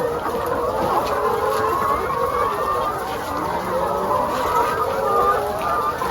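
A dense chorus of chickens clucking and murmuring continuously during egg collection, many birds close by, steady and busy with no pauses.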